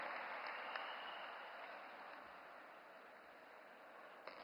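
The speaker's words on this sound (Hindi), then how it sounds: "आप सभी की तालियों के बीच आमंत्रित करते हैं" Audience applause at a public ceremony for the Ken-Betwa river link project in Bundelkhand, a steady soft wash of clapping heard from a distance and faint throughout.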